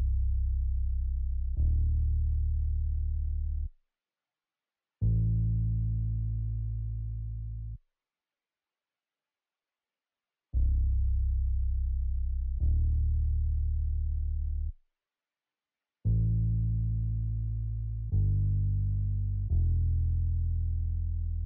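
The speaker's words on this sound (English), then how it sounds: "Then I use this mute bass, it's a part of my upcoming kit" A muted bass sample from a producer's upcoming kit plays alone as a series of deep, dry, plucked-sounding notes, each held a couple of seconds and fading slightly, separated by gaps of silence.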